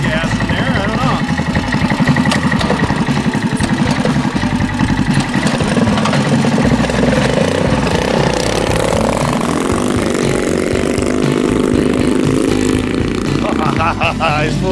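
A 420cc Rupp engine with a flat side carburetor runs steadily at a low, even idle, close by and fairly loud, with voices talking over it.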